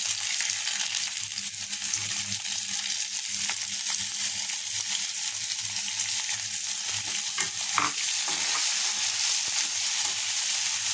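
Shrimp with pumpkin, onion and garlic frying in oil at home, a loud continuous hiss and sizzle with occasional stirring scrapes, close and steady throughout with no voices.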